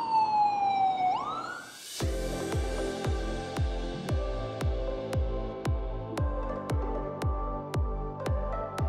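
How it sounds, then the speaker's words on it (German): An ambulance and police siren wails and glides down in pitch, then a loud rapid pulsing horn-like tone repeats steadily, close and dominant throughout, on a Copenhagen street. "Und da kommt Krankenwagen,"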